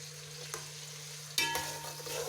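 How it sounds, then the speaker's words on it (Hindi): Chopped onion frying in a pan until light brown, a steady quiet sizzle with a couple of stirring scrapes, one louder clatter near the middle, no talking. "एक प्याज काट के इसको डाल दें। इसको आपने लाइट ब्राउन करना"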